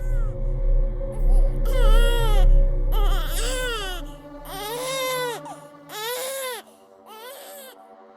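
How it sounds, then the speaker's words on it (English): An infant girl cries loudly and close in long rising and falling wails, broken by short breaths, over a low steady hum, with no talking. "I suddenly heard the sound of my infant baby girl crying"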